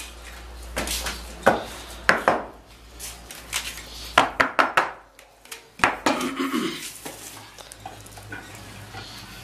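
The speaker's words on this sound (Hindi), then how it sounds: "अब ये नेगेटिव प्लेटें हम लगाना चालू करेंगे।" Negative lead-acid battery plates being slotted into a battery case in a workshop give irregular knocks and hard clatters, some loud and close, with brief quieter gaps between them.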